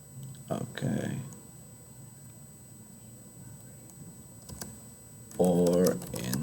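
Typing on a computer keyboard while working in Google Slides: a short run of close clicks early on, a quiet gap, then a second brief burst of keys as a voice talks.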